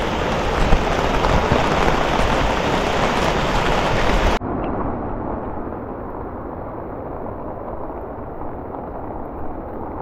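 Heavy rain pours down on a hiking trail on Mt. Kulago in Impasug-ong, Bukidnon, a loud, dense, steady hiss that turns suddenly muffled and softer partway through.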